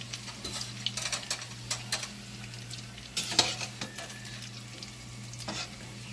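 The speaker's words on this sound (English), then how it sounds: "we're going to put that sauce on the fire and cook it up" Honey wing sauce cooking in a pan over the heat, a low simmering sizzle broken by repeated clinks and scrapes of a utensil stirring against the pan; no talking.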